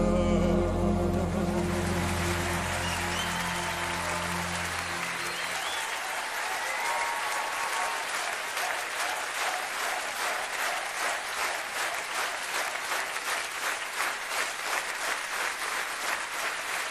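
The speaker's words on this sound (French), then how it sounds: "je voudrais que vous joigniez à ces applaudissements" A theater audience breaks into sustained, dense applause after a sung number, starting under the fading final chord and then continuing loud and steady on its own.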